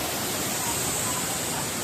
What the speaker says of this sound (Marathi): आम्ही आलाय सावडावच्या बसचा धबधब्यामध्ये